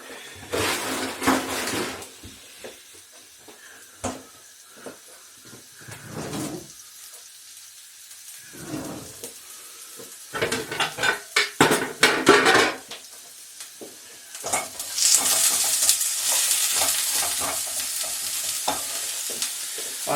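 Diced chicken stir-frying in a heated wok for chicken noodles with peppers and mushrooms, with bursts of sizzling and scraping stirs, clattering utensil hits against the pan and a louder, steady fry toward the end, no talking.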